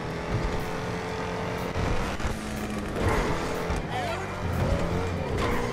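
A car in the GTA RP video game skids with squealing tires and engine roar as it rolls over, loud and continuous for several seconds with people talking over it.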